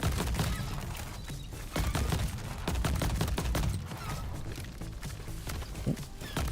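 A video game battle with armed crabs fills with dense rapid gunfire and repeated booming blasts from grenades, loud and continuous throughout.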